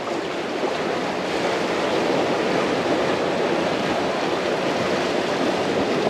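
Steady, continuous roar of surf breaking at the seashore, broadband and unbroken, with wind noise mixed in and no voices.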